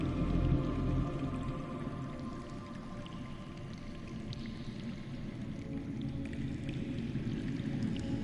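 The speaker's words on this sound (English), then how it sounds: "That's water. I hear water. From underground." Underground water flows steadily in a Game of Thrones video game, a continuous low rushing and gurgling wash heard alone at moderate level.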